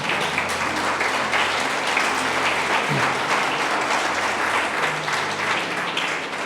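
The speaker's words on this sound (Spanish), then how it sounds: "dale un fuerte aplauso a Dios en esta mañana" A church congregation claps at a Sunday morning service, a dense steady wash of many hands filling the space at an even, sustained loudness with no voices over it.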